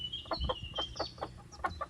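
A hen clucking in a backyard coop gives a run of short, close, rhythmic clucks, about a dozen quick pulses over a couple of seconds with no talking.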